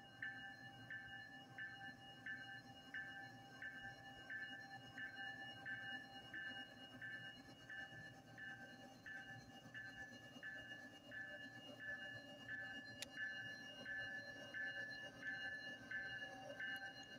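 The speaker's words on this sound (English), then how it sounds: "That's yet a train again." Distant train passing, a faint low rumble with a regular repeating click pattern that runs steadily throughout.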